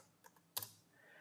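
Quiet keystrokes on a computer keyboard: a couple of soft taps, then one sharper click, heard close in a silent room.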